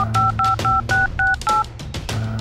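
A mobile phone number is keyed in: six quick, evenly spaced keypad beeps ring out clearly over a low background hum.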